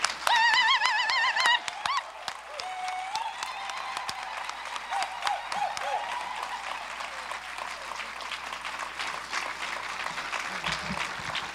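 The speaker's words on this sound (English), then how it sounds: "Would you please give a round of applause for Rabbi Eric Carlson." An audience applauds for a rabbi taking the stage at an evening anniversary ceremony of a historic wedding, steady clapping running throughout with a brief tonal chirping early on and no talk.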